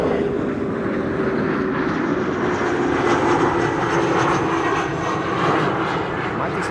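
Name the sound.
SAS CRJ 1000 jet arriving from Copenhagen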